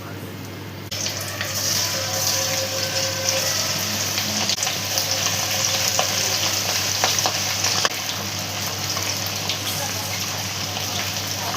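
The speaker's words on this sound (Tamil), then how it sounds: "நம்ம எண்ணெயில் போட்டுக்கலாம்" Marinated chicken 65 pieces frying in hot oil outdoors in a village kitchen, giving a steady, loud, continuous sizzle with crackling pops throughout, occasional stirring, and faint voices in the background.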